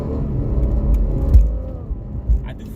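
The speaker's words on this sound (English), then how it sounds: "you can actually hear the motor, the transmission, and everything move" An Infiniti Q60 engine with a solid transmission mount rumbles steadily with low whirring drivetrain noise, a couple of brief thumps breaking through the continuous hum.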